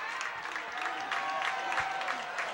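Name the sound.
football fans cheering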